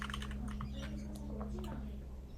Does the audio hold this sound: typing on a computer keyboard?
yes